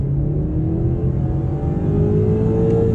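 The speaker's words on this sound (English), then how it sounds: "we'll try an acceleration out in comfort mode on the gas" A 2023 BMW X4 xDrive30i with a turbocharged four-cylinder accelerating in comfort mode, its engine note a steady loud hum heard from inside the cabin, rising smoothly in pitch as it pulls.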